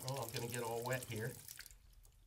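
Water runs into a shower drain fitted with a hair-catching guard. Someone talks over the first part, and a faint steady wash of running water continues alone after he stops.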